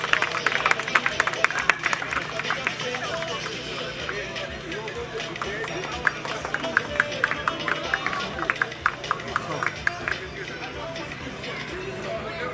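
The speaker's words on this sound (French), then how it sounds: "sous vos applaudissements" Applause for the race winner at a hill-climb ceremony, the 38th Course de Côte des Mamelles in Bouillante: steady, dense clapping from a crowd, mixed with murmuring voices and a loudspeaker voice talking throughout.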